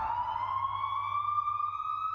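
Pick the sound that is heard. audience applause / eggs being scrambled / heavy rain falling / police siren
police siren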